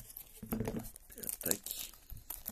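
A Japanese trading card booster pack being torn open by hand, with crinkling foil wrapper bursts and a sharp rip near the mic, while a person talks over the rustling.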